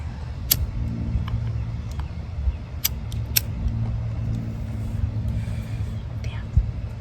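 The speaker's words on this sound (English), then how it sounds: "There's another car coming." A car approaches and passes on a road at a touristy outdoor spot, a low engine rumble swelling and fading in the background while someone speaks quietly close by, with a few sharp clicks and rustles.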